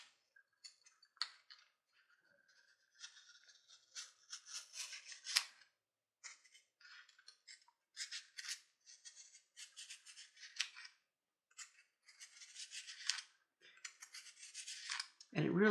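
Leather edge beveller tip worked by hand against abrasive wrapped around a thin ruler or needle, giving faint, short scratchy rasps in uneven bursts with small pauses between.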